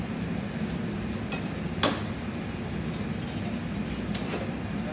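Potatoes fry in oil in a hot pan on reduced heat, a steady low sizzle running throughout with a couple of brief clinks of a utensil against the pan and no talking.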